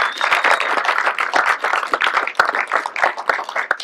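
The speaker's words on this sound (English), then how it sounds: "A huge round of applause, please." Award-night audience clapping enthusiastically, many hands producing a dense, lively burst of applause for a few seconds, loud and close, with a faint whistle near the start.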